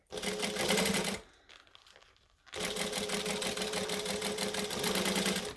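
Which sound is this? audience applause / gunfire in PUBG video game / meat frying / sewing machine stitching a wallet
sewing machine stitching a wallet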